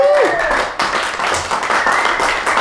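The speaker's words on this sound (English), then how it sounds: "A round of applause for Josh." A small audience in a room gives a round of applause, brisk clapping that dips briefly midway, with a faint whistle-like tone near the start.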